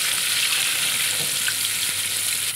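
Koi fish frying in a pan of oil produce a dense, loud, continuous sizzle that holds steady throughout.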